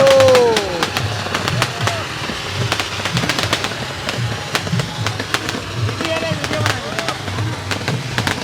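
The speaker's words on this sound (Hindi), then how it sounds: "तो जी आतिशबाजी का मजा देखिए जी, क्या बात है।" Diwali-style fireworks at Raipur's Marine Drive crackle and pop repeatedly nearby, with whistling rockets rising and sharp bursts over a murmur of background noise.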